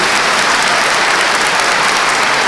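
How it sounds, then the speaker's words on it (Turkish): A large crowd at a Turkish ceremony honoring Quran memorizers applauds in a thick, continuous roar of clapping that stays loud and even throughout, with no voices standing out. "Kendilerine teşekkür alkışı gönderiyoruz."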